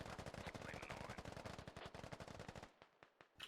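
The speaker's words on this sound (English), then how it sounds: "There's a lot of shots at Flicker and his teammate" Rapid video game gunfire, a fast steady string of sharp automatic shots that runs for about two and a half seconds, then thins into a few scattered single shots, fairly faint overall.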